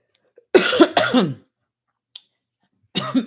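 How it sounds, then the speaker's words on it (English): A few sharp, harsh coughs in quick succession, close and loud, followed after a pause by another short cough burst. "for this cough that I have"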